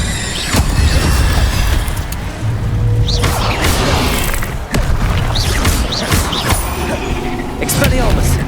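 An Incendio fire spell is cast in a Hogwarts Legacy fight: loud repeated booming blasts and whooshing impacts over steady battle noise, with talking mixed in.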